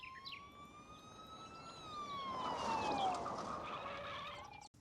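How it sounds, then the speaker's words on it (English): A police siren from the Mega Man Legends video game wails in a long rising and falling tone at moderate distance over a steady background hum. "I heard police sirens"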